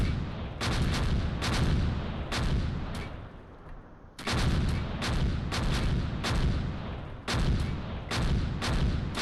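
Mortar fire in Close Combat Gateway to Caen, heavy explosions crashing in repeated bursts, a dense barrage that pauses briefly before pounding on again.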